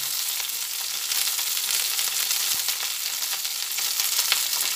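Sweet potato and botboti beans frying in a pan for a mixed-vegetable jolbora curry, giving a steady, dense sizzle that holds even and close throughout with no voices.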